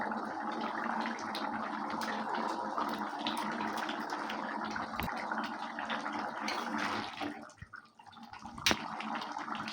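Water poured into a pan of chickpea and paneer curry gives a steady, close splashing and gurgling stream that runs continuously, with a brief dip near the end.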